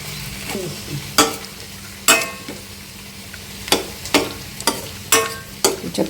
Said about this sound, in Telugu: చక్కగా మంచి గోల్డెన్ కలర్ వచ్చే వరకు ఫ్రై చేసుకున్నాం